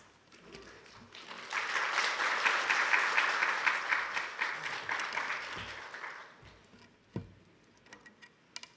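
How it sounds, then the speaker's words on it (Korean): A church congregation at a deacons' dedication service applauds to welcome a guest speaker. Soft clapping swells, holds for several seconds, then thins out into scattered claps and small noises. "나오실 때 박수로 환영해 주시기 바랍니다"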